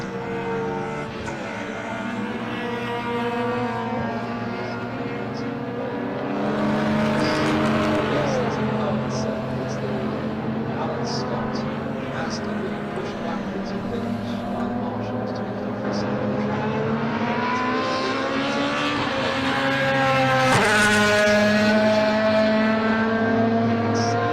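Racing cars, among them an Astra GTE, a Vectra and a Mazda, lapping Silverstone circuit with sustained engine drone and shifting pitches as they pass, under continuous race commentary.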